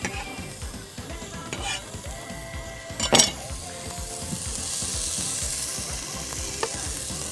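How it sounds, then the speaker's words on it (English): Ginger sizzles steadily in a hot pot with ongoing stirring scrapes, a louder clank of a utensil near the middle, and a continuous frying hiss that grows fuller toward the end. "I'm going to go in there, get some ginger going."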